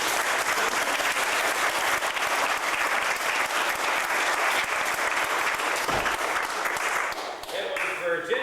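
A crowd at an outdoor farm gathering in 1989 claps in sustained, dense applause that fills the scene, then tapers off near the end.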